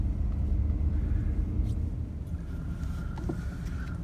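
A pickup truck works a snow plow on a road in Lexington, Kentucky, with a continuous low engine rumble and road noise and faint higher tones drifting over the top.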